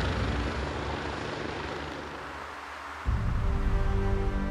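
Rescue helicopter engine noise drones continuously, then swells abruptly louder partway through, like the helicopter powering up nearby.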